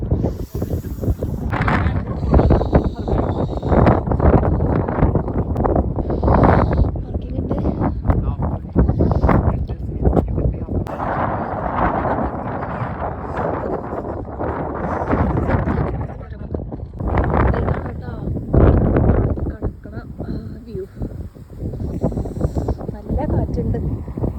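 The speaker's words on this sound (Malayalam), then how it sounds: "ഭയങ്കര കാറ്റുണ്ട്" Strong wind buffets the microphone at Seaham beach, loud gusty roaring that surges and drops in uneven bursts throughout, with no voices over it.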